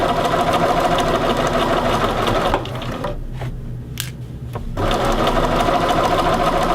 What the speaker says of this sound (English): we'll back stitch along this seam